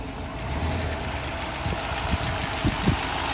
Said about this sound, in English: A beautiful, quiet engine. It is a 327 cubic inch with 340 horsepower.